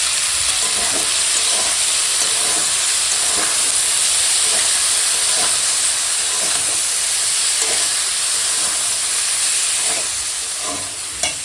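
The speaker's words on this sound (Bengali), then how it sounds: "দেখো এখন বিট আলু কাঁচা লঙ্কার ফোড়নে ভাজা হচ্ছে" Beetroot and potato frying in a green chilli tempering with turmeric and salt, giving a loud, continuous sizzle and hiss with faint stirring scrapes underneath, steady throughout and without speech.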